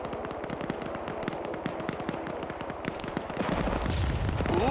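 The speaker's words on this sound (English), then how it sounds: "Another mortar going up." Dense, rapid gunfire from a tactical military shooter match, a steady rattle of sharp shots loud and continuous, joined near the end by a deeper rushing boom as a mortar round launches.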